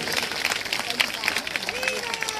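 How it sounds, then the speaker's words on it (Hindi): An audience claps at a Bhagwatam religious discourse in Noida. The sharp, uneven hand claps sound moderately loud and run under a voice speaking throughout. "अब निकले जोरदार ताली बजाओ"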